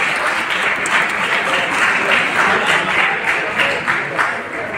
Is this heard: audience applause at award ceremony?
yes